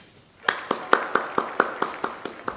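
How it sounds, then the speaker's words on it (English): In a shop, a few people clap in a steady rhythm, roughly a dozen sharp, close claps at even spacing after a brief quiet start. "Yes. Applause."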